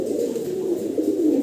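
Fancy pigeons, including black Pomeranian pouters, coo steadily and closely in a loft, a continuous low burbling with no talk.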